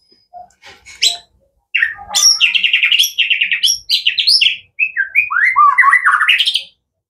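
A white-rumped shama (murai batu), a wild-caught bird being kept for song contests, sings a varied, loud, close run of whistled phrases and rapid chirps, with a short pause before the song picks up and carries on almost without break.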